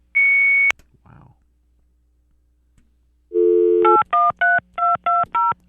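Cell phone keypad dialing, with a steady tone followed by a rapid run of six crisp DTMF beeps in quick rhythm, loud and close, with no voices over it.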